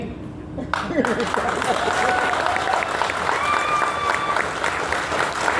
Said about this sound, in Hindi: पीछे वाले कंजूसी कर रहे हैं, जोरदार तालियां होनी चाहिए।